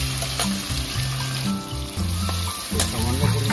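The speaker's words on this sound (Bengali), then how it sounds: "কেটে রাখা পেঁয়াজ আর একটা টমেটোকে আমি যে চপ করে রেখেছিলাম সেগুলোকে আমি এর মধ্যে দিয়ে দেবো" Chopped onion and tomato hit hot oil in a pan, giving a steady, loud sizzle and frying hiss throughout, with some stirring clatter and low background noise.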